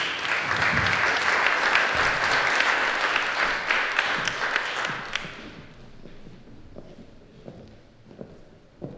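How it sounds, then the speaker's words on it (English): Applause fills a hall at a community event, a dense roar of many hands clapping that holds for about five seconds, then fades to scattered claps and movement over low room noise. "Give yourself a hand of applause"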